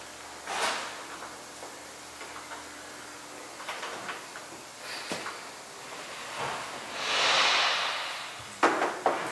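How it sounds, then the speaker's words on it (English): A latch being fitted into a door during assembly of a Maxim 3000, heard as a few quiet scattered metallic clicks and taps with a soft scraping rasp near the end, no talking. "This latch goes in from the back side of the door."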